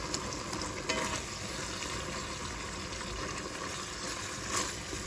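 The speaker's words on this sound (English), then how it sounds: "To the meat already, I've added some garlic, and I'm going to cook this down" Ground meat and garlic cook in a pan with a steady, dense sizzle and crackle, close and continuous, broken by a few faint stirring scrapes.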